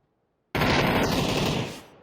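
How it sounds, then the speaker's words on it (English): Gunfire erupts in a PUBG shootout: a loud, continuous rapid-fire burst starts abruptly after a moment of silence, holds for over a second, then trails off. "We got Famacity and Zadis giving us a good shootout now"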